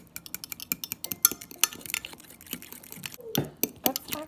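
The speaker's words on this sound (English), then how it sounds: "So I'm going to stir that up." A spoon stirs rapidly in a pot of dehydrated potatoes and water, rhythmic scraping clinks with soft splashy water sounds, fairly close and continuous.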